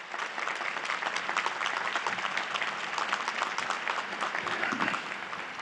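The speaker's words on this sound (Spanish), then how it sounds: "Nos saludemos a ambos grupos con un aplauso." A large crowd at a papal general audience applauds in a steady, dense patter of many hands that holds evenly throughout at moderate distance, with no voices standing out.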